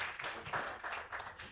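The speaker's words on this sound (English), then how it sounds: "Can we applaud that?" A church congregation applauds during a sermon, a steady wash of clapping with several swells, fairly distant and reverberant, with no one speaking over it.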